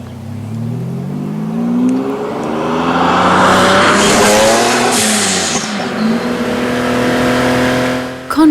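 A high-powered tuned sports car in the Austrian Alps roars past, its engine rising in pitch through revs and gear changes, loud and close, with a throaty rumble that swells and fades.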